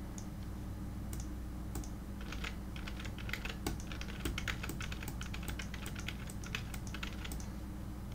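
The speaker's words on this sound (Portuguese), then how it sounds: "eu vou clicar e digitar aqui um pouco" A computer keyboard is typed on in irregular bursts of light, crisp key clicks, faint and close against a steady low background hum.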